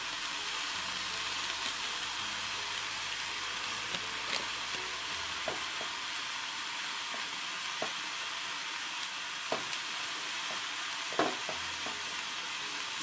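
Potato and tomato sauté in a hot pan with a constant loud hiss of frying, punctuated by scattered scrapes and taps as a spoon stirs them.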